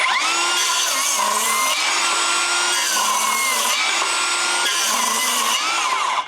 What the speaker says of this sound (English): We'll just do a few quick cuts to see how it handles with a bit of timber